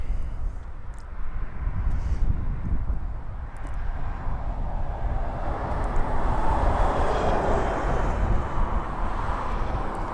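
A Ryanair Boeing 737 turning for its approach to East Midlands Airport produces a steady, rumbling engine roar that fills the whole stretch and thickens slightly toward the end, with no talk.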